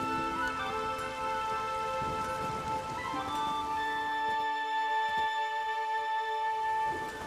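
Steady rain falls in The Witcher 3: Wild Hunt, a continuous soft patter with no voices, set beneath sustained tonal game music.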